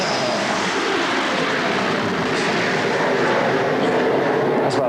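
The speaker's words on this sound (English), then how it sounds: "That's about the best takeoff he's done." A propeller training aircraft on its takeoff run, a loud, steady engine roar that dominates throughout at close range.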